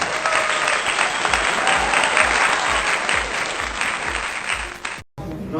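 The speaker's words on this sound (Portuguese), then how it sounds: "Uma salva de palmas para a Janja." A crowd breaks into loud, sustained clapping, dense and continuous, with a rhythmic low thump running beneath it before the sound cuts off abruptly near the end.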